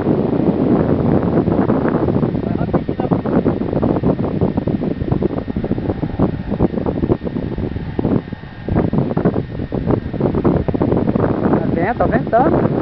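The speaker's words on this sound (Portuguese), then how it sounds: "Lá em cima tá ventando, cara." Strong wind roars steadily across the microphone, a constant buffeting rush with voices talking under it.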